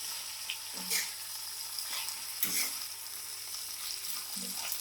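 Surti papdi beans sizzle in oil with masala while a spoon stirs them, giving a steady frying hiss broken by a few soft scraping strokes against the pan.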